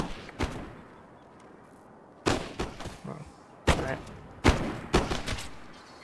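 Several separate volleys of gunfire in a multiplayer video game battle: sharp, loud bursts of overlapping shots, each trailing off into a short rumble, with quiet gaps between them.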